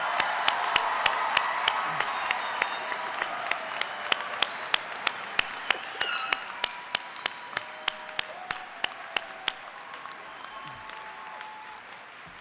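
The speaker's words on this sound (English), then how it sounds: "how about one more round of applause for our 2024 graduates?" Graduation-ceremony applause for 2024 graduates at a high school, a broad wash of crowd clapping with a few sharp, close individual claps on top, slowly thinning and fading over about twelve seconds.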